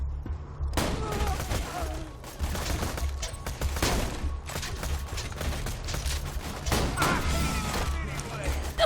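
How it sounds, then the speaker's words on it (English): A Jakobs weapon in Borderlands 2 fires rapidly, with loud sharp shots and crashes coming in quick uneven bursts while someone talks over them. "if I just kind of double-click very quickly, I can get a lot of firing rate off this weapon, which is the case for all Jacob's weapons"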